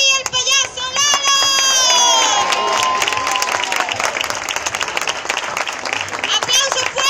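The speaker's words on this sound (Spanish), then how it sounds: "¡Aplauso fuerte!" Loud applause from a crowd of adults and children at a Vaiana-themed festival show, dense clapping mixed with children's shouts and voices throughout.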